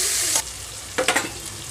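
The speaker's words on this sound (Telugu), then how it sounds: "ఇక్కడ ఆల్రెడీ కలిపి పెట్టుకున్న చికెన్ ఇందులోకి వేసేస్తున్నాను" Marinated chicken pieces for a pressure-cooker dum biryani tipped into a hot pan over softened tomato, giving a steady close sizzle with a few louder bursts of frying and stirring.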